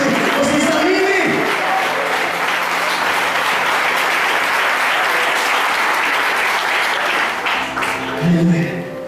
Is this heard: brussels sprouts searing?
no